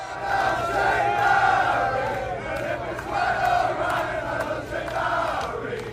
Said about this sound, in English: making a lot of noise, a lot of, singing Olé, a lot of great chants.